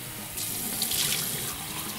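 Water splashes in a bathroom sink before shaving with a regular razor, a close, steady rush of running, churning water with a slight surge partway through.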